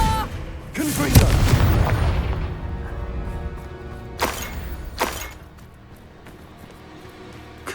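Explosive Confringo spell blasts in Hogwarts Legacy on PS5: a loud burst near the start followed by two sharper, shorter blasts a few seconds apart, over a continuous game soundscape.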